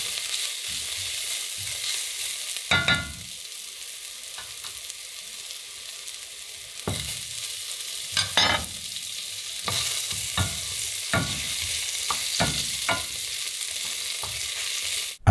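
Oyster mushrooms frying in butter in a pan for a mock tripe soup: a continuous soft sizzle broken by several sharp scrapes and stirring knocks spread across the stretch, no one speaking.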